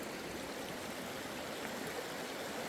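A low-running stream over rocks and clay where gold is being prospected, with a steady broadband rush of flowing water, continuous and fairly close, no voices.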